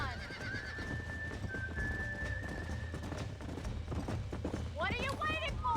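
Horse hooves clip-clop in the video game Red Dead Redemption on Nintendo Switch, with a horse whinnying and game music and effects layered over the steady hoof beats.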